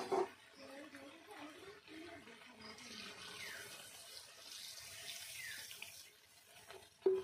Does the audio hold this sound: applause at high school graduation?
no